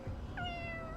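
A cat meows once in Fire Emblem Engage, a single drawn-out, slightly rising mew that stands clearly above a low, steady game background.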